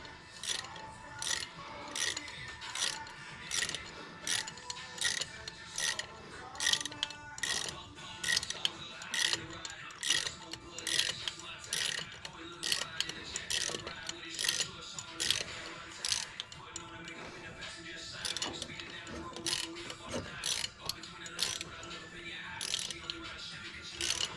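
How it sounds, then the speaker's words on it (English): A ratchet wrench tightening the turbo inlet clamp on a 2015+ Subaru WRX makes steady, close, repeated bursts of rapid pawl clicks, stroke after stroke in an even rhythm, with brief pauses between swings. "grab the wrench, because like I said, we don't like just screwdrivers. And go ahead and tighten that up."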